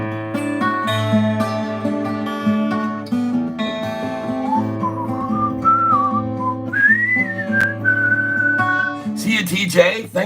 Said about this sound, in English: Let's do this cool little whistling tune.